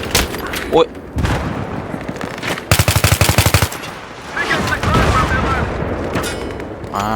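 Battlefield 3 battle with a tank and rapid machine-gun fire laying down covering fire, a dense burst of close, loud shots around the middle amid ongoing booms, while players talk over the action.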